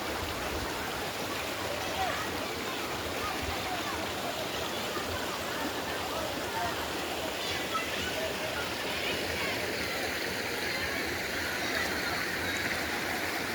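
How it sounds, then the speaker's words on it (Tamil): Stream water near Sastha temple in Rajapalayam, in forest, rushes and splashes in a constant broad hiss, with someone talking over the flow. "தண்ணி நல்லா வருது, வந்தால் குளிக்கலாம்"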